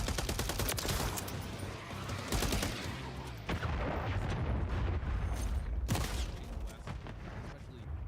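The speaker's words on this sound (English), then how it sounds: "Friendly cruise missile deployed." A video game cruise missile strike produces a continuous, dense barrage of booms and rattling blasts, with sharp explosive hits near the middle. Faint talk sits under the noise.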